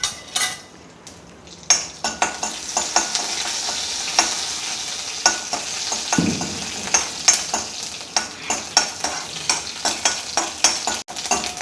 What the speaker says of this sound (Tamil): கடுகு மட்டும் தாளிச்சா போதும்.